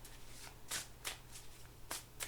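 Tarot cards being shuffled by hand in a quiet room, a series of short, crisp riffling bursts close to the microphone, with no one talking.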